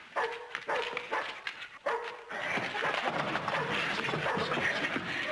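A dog barks in a short series of sharp barks near the start, then a busy, noisy indoor scene with muffled movement follows; a sitcom setting with no clear speech.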